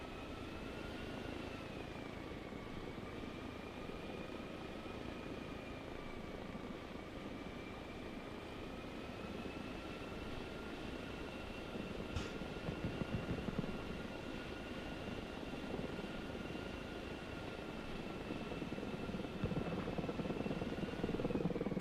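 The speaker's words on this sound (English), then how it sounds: "That's an Apache." An Apache attack helicopter flies over the battlefield in Arma Reforger, a steady droning rotor and engine sound holding throughout, moderately distant with no speech.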